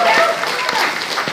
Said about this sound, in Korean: 이영풍 기자님 5분 여러분 큰 박수로 모시도록 하겠습니다.